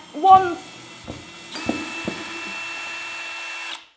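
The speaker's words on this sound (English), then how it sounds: "I'm unscrewing this plate" A power screwdriver whirs in short bursts and then a sustained run while unscrewing a ceiling light plate in a loft, with a few knocks and a voice speaking near the start.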